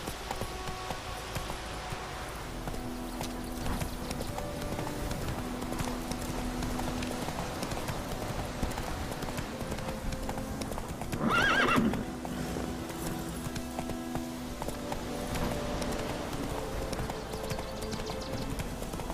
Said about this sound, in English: Come on, Roach. That's it, Roach. Whoa there, Roach